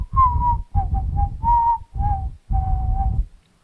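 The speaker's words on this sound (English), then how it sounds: "I learned how to whistle like 3 months ago," A person whistles a simple tune alone, several sustained and short notes in a rhythmic phrase with brief pauses between them, fairly loud and close.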